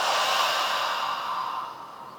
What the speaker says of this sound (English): this part of the body expands when we take a deep breath like this